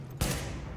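Gunfire in the video game The Division, a single sharp shot bursting out of a low hum and ringing briefly, close and moderately loud.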